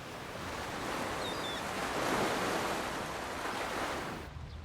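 Sea waves wash in at the seaside in a soft, steady surf hiss that swells toward the middle and then fades away at the end, with no voices over it.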